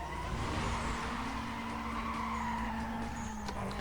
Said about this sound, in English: I just love that sound. Like, oh, his car just sounds so good.